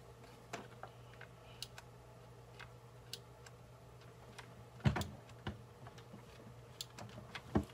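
Keys clacking on a Commodore 64 keyboard, a quiet run of scattered, irregular taps over a steady low hum, with a few sharper presses standing out.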